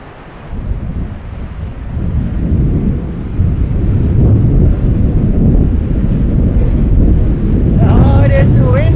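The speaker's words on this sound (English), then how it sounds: "Oh, it's super windy up here." Strong mountain wind on the Annapurna Circuit in Nepal roars steadily into the microphone, a loud continuous rushing buffet that builds and never lets up.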